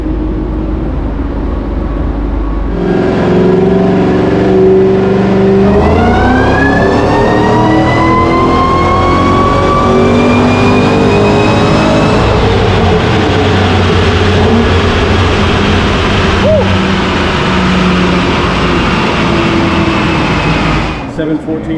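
A 2012 Ford Shelby GT500 with VMP power strapped down on a dyno, its engine revving loud and close with a long rising whine that climbs in pitch, then holds at high revs.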